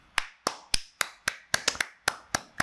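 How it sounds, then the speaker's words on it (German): Eleven sharp, separate hand claps in an irregular rhythm, close and loud, with a quick double clap in the middle and no voices. "Einfach mal klatschen."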